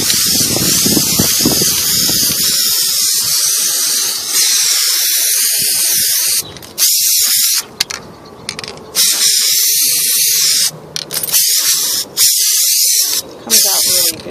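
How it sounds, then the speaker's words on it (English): Loud bursts of spray adhesive hiss from an aerosol can in several short and longer blasts, separated by brief pauses and clicks of the nozzle. "Here's this spray here. Spray it on, and it dries."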